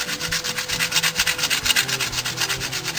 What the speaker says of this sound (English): get sandpaper and just take the corners off of everything